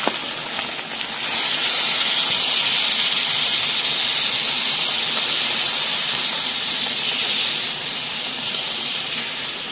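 Water poured into a hot pan of braised meat sets off a loud, steady steaming hiss that swells after a second and holds close and continuous.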